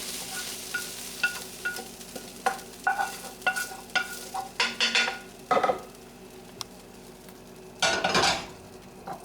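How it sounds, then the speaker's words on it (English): Vegetables stir-fry in a hot pan for chicken with walnuts, a steady sizzle broken by frequent clacks and scrapes of a utensil against the pan; close-up, no talking. "stir frying does mean stir frying, so we have to make sure we keep all this moving while we're cooking it"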